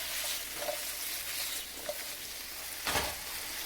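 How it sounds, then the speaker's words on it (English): Little potatoes sizzling in hot oil in a pan, a steady soft crackle with a sharper burst of spatter near the end, no talking. "And I'm going to dump my little potatoes in there. You definitely want to hear that sound when you put them in there."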